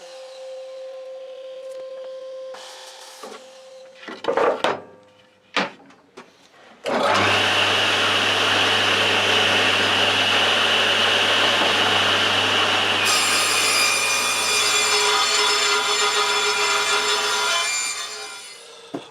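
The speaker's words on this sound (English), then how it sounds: "So what we'll do now is we'll cut these to size, the top and bottom rails." A power saw cuts wooden top and bottom rails and a centre panel to size for a raised panel door. Several short knocks and bursts of cutting come first, then a loud, sustained saw roar runs for about ten seconds before it winds down.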